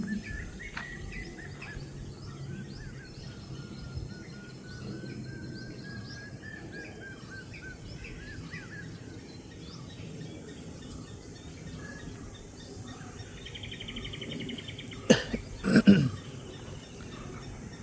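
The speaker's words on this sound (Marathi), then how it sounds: "जसं की आता आपण बघतोय की इथे आपण आलो आहे आणि पक्ष्यांचा इतका किलबिलाट चालू आहे." Varied birds chirping and calling on a morning nature trek, a faint layered chorus of tweets with insect buzz beneath and a few louder sharp calls near the end.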